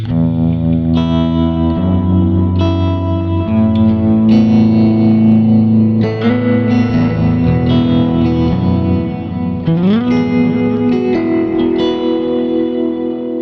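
Sustained electric guitar chords through a Kemper amp, drenched in reverb and delay, notes ringing and echoing into each other with a washy, shimmering tail.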